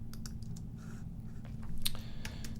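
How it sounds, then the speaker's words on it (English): Fingers type on a computer keyboard with quiet, irregular clicks and key taps over a low background hum, close and faint. "I'm typing in something that's not a type box."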